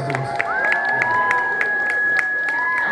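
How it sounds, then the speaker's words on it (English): A crowd at a live costume contest claps and cheers, with scattered whoops, shouts and a long sustained whistle-like tone riding over dense, steady applause. "a round of applause for everybody who did such a great job on their costumes"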